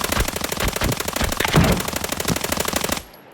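Rapid automatic gunfire rattles in Arena Breakout, a loud, close, sustained stream of evenly spaced shots for about three seconds before it cuts off abruptly into near silence.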